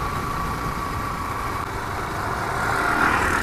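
Hero Glamour X 125 commuter motorcycle riding smoothly in third gear, a steady engine drone with a faint rise toward the end, no talk.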